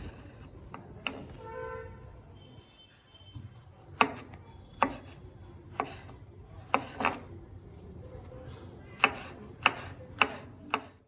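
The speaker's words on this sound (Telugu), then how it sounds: "ఫస్ట్ ఫ్రూట్స్ అన్ని కట్ చేసుకుంటాను" Fruit is cut for a summer fruit pudding, with a knife chopping on a board in sharp, irregular taps close to the microphone, spaced about a second apart over quiet background.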